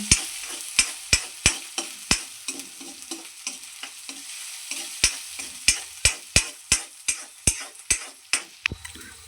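Crushed green chillies with turmeric frying in a pan, a constant sizzle punctuated by regular sharp scrapes and taps of a spoon stirring against the pan, close and clear with no talk.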